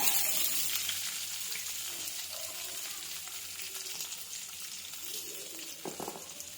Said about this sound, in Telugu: దాన్ని ఫ్రై చేయాలి.